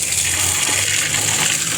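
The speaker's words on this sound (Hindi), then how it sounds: "मैंने कहा पानी लगा लूँ" Water gushes steadily from a hose onto the walls of a house, a close, continuous broadband rush with no break and no talking.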